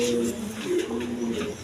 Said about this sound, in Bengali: দর্শকবৃন্দ এখানে আরেক পেয়ার কবুতর আছে